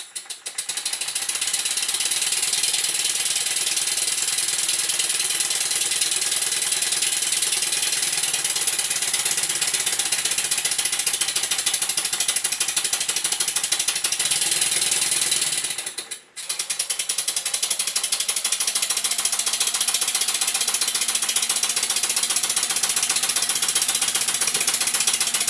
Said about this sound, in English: it's just the S50 running, showing how its new gaskets don't leak